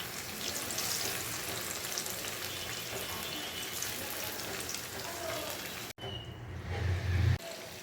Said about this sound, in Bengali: প্যানে তেল গরম করে নিয়েছি। এখন চিংড়ি মাছগুলোকে ভেজে নিব।